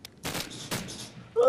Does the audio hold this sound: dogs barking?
no